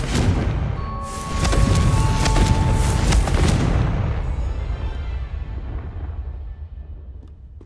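A fire-blasting spell explodes in the video game Hogwarts Legacy: a heavy, booming burst with rumbling low end that starts early, swells over a couple of seconds, then trails off into a long fading decay.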